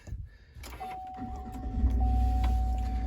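A 2021 RST truck's engine cranking and starting up, with a short whirring start, a steady whine, then the idle settling into a loud, low, continuous rumble close by.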